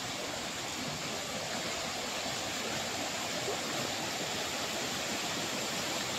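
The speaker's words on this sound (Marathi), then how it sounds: "हे सर्व वरती सड्यावरून पाणी येतं इकडे खाली, एकदम स्वच्छ पाणी एकदम." Clean water streams down from the hilltop plateau toward a village river after unseasonal rain, making a steady, even rushing hiss that stays unbroken and moderately faint, with no voices.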